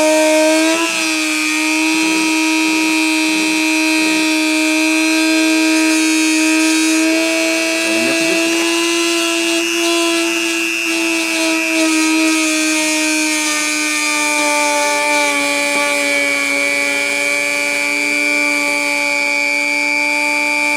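A deposition machine's spindle whirs at speed, a loud, steady tonal whine with layered harmonics that holds on throughout after a few brief low pulses near the start.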